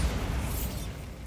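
Bombarda spell explosion in the video game Hogwarts Legacy, a single loud, deep, rumbling blast filling the short moment and fading slightly.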